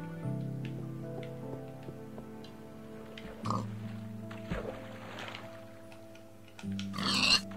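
Pig grunting in Minecraft on the Xbox 360 Edition, a few short grunts standing out against steady game music tones, with a louder burst near the end.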